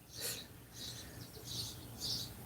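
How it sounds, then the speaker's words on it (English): Outdoor birds chirp in short, faint bursts repeating about every half second over a low steady hum, with no voices. "You hear the birds? They're singing for you."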